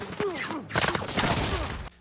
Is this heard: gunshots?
yes